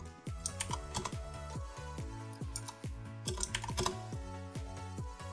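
A computer keyboard clatters with steady, brisk typing, a close run of light key clicks carrying on without pause, with no voices over it.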